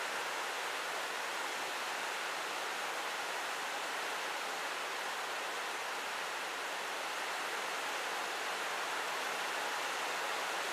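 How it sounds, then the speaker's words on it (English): Heavy rain pouring down outside, a dense, even, hissing wash of sound that holds steady throughout with no other noises standing out. "It just started really pouring down. The rain sounds like my inverter running."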